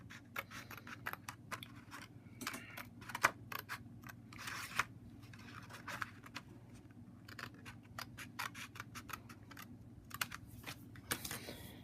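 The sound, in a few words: cutting paper along a line for a bridge model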